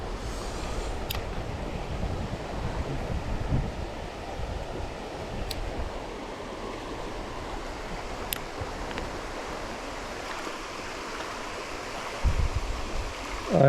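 Steady broadband rush of a warm summer river in the south-west of England, continuous and fairly close, with a few faint clicks and a slight swell near the end; no one talks.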